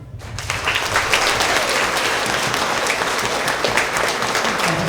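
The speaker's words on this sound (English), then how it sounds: "Let's give a round of applause for all of our 3rd grade Tiger of the Quarter." A crowd at a school award assembly breaks into loud, sustained applause that starts abruptly and continues steadily without letting up.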